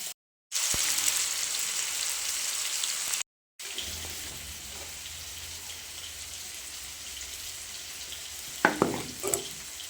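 Fish curry simmers in a pan on a home stove, giving a steady bubbling hiss that runs throughout, broken by two short silent gaps and a few louder pops near the end.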